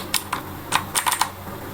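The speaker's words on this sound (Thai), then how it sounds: "แล้วก็คีย์บอร์ดนะครับ เป็นบูสวิตด้วยนะครับ มีเสียงนะครับ" Keys on a mechanical keyboard with clicky blue switches clack in an irregular burst of about eight crisp presses, close and clear over a low steady hum.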